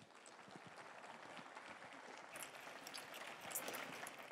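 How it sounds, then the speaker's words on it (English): Faint, continuous applause from a conference audience at a health and care innovation expo, an even wash of many hands clapping heard from a distance. "So please give him a warm round of applause."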